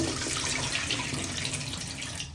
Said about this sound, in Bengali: যে পাতিলটা আমি এখন চাল ধুচ্ছি